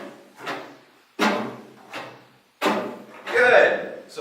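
Cello bow chops, the bow pushed toward the bridge and lifted off, giving four scratchy percussive strokes in an uneven rhythm, close and moderately loud, with a slight rasp after the last stroke.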